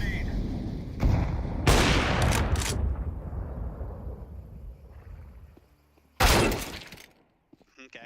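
A grenade goes off in a first-person shooter video game, with sharp, loud blasts and shattering crackle near the start and another burst about six seconds in, each decaying into a rumbling tail.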